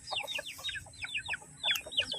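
Chickens cluck in quick, repeated chirpy bursts, close by and moderately quiet, with no one speaking.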